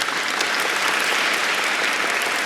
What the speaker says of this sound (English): Round of applause for my motherfucking supporters.